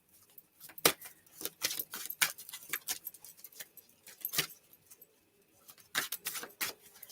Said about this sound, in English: So let's give it a little shuffle,